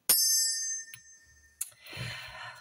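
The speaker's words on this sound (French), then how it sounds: "Et je vais faire sonner la petite cloche." A small bell is struck once with a bright, ringing tone that decays over most of a second, then a softer second tap follows, and some faint rustling handling noise trails at the end.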